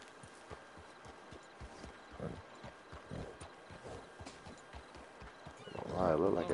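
Rhythmic horse hooves clop steadily at a walk in the video game Red Dead Redemption, ending with a loud, close whinny; a voice speaks briefly over the hoofbeats.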